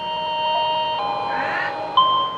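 Electronic bell signal in the TSA train simulator video game, a steady ding tone sustained over a couple of seconds and rising in the middle, with a brief bright chime near the end; no voices.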